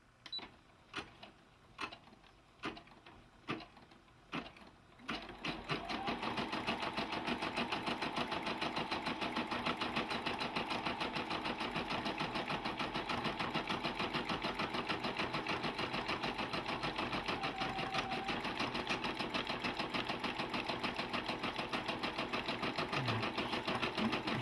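A Brother PB6800 sewing and embroidery machine stitches a zigzag, opening with a few spaced mechanical clicks and then running in a loud, steady, rapid whirring chatter that holds to the end.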